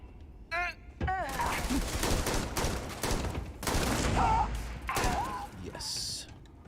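Rifle fire rattles through a Starfield firefight with pirates, dense bursts of rapid shots and impacts running almost continuously, loud and close, with game sound effects mixed in.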